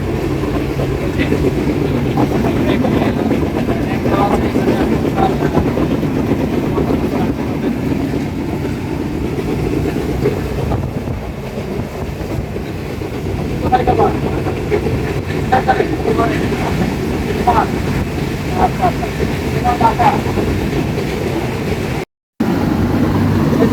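Rupsha Express train running on the Khulna line, heard from inside a carriage as a loud, steady low rumble with faint intermittent clicks and rattles, briefly cut out near the end.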